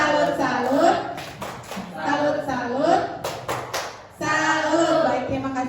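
A group performs the rhythmic Indonesian 'tepuk salut' clap chant, bursts of unison clapping interleaved with chanted voices in a close, lively indoor setting.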